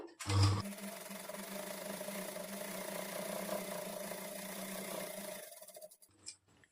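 A sewing machine runs a long basting stitch on a blouse sleeve, a close, continuous, even whir lasting about five seconds before it stops and a few soft handling sounds follow.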